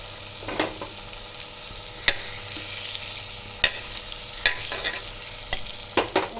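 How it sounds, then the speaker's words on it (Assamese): Butter melts and sizzles in a pan for pav bhaji, a steady soft frying hiss broken by several sharp spatula taps and stirring clicks against the pan. "এতিয়া মই বাটাৰ দি দিম এতিয়া মই বাটাৰটো বহাই দিম"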